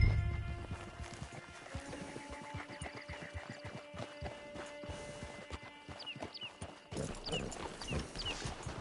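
Horse hooves clip-clop at a steady walking pace in Red Dead Redemption 2, with a whinny and creaking tack near the end, fairly close and moderately loud, with game music in the background.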